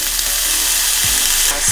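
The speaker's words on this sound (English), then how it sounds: "Next, we can add our chopped kimchi." Chopped kimchi drops into a hot frying pan and sizzles loudly at close range, a dense, steady hiss with a brief clatter as it lands.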